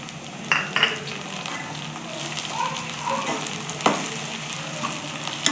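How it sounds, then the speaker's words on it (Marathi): Onions and tomatoes for chole sauté in a pan, giving a continuous close frying hiss with a few clinks and scrapes of a stirring spoon, alone without talk. "टोमॅटो पण चांगलं मऊ होईपर्यंत याला असंच परतून घेऊयात"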